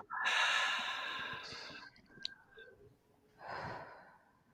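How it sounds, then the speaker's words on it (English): During a calm relaxation exercise, a person draws in a long audible breath through the nose and then lets out a slower breath after a short pause. The breathing is close and clear, with no talk. "And take a breath."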